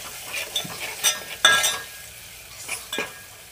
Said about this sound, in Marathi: त्याला पण लाल होईस्तोवर फ्राय करू.